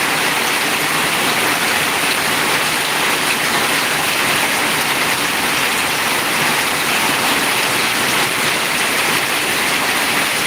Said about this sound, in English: Probably hard to hear under this patio from all the rain.